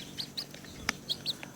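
Young chickens being raised by children peep in short, bright repeated calls at low level, with soft clucks and a brief tap over a hissy background.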